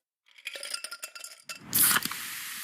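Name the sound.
Pepsi Zero Sugar bottle clinking and fizzing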